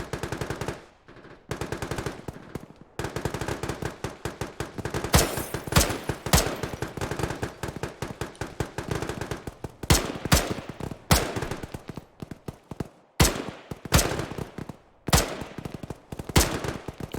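Sustained suppressive gunfire in the military video game Arma: loud, rapid automatic bursts and single shots cracking almost continuously, with brief gaps and echoing reports of return fire.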